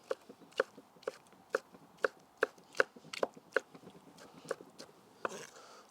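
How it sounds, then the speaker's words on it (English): Onions being rough-chopped with a knife on a board, a steady run of sharp, close knocks roughly every half second, ending in a brief scrape. "we're literally just going to rough chop everything. So just straight down the middle. And the same for the onions."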